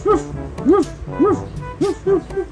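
A small toy dog yips and barks repeatedly in quick, high-pitched bursts, close and fairly loud, with a faint voice mixed in.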